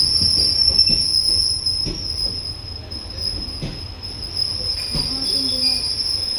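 Train wheels of the Kerala Express, an unreserved coach, roll and squeal on the rails as it moves off, a steady rumble with a high sustained squeal and occasional clicks at a fair distance.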